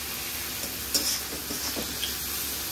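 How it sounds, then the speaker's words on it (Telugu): Broccoli rice sizzles steadily in a hot pan as soy sauce goes in, with a constant close hiss broken by a few soft stirring scrapes. "ఇప్పుడు వచ్చేసి సోయా సాస్ యాడ్ చేస్తుంది"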